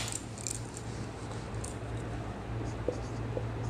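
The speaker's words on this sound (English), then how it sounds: "I can write here" Faint handwriting scratches made while working through a Class 8 maths data handling problem, soft and sparse strokes over a steady low room hum.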